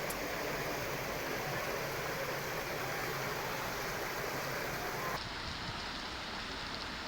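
Floodwater from torrential rain pours over a bridge in Nandgaon, Amravati, making a loud, steady broadband rush that never lets up, heard close and alone, with a slight change in tone near the end.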